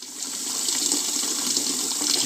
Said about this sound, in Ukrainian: Набираємо ось таким чином гарячої води і опускаємо туди пляшки з цим льодом.